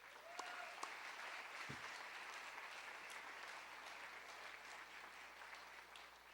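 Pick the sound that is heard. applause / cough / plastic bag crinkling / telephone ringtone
applause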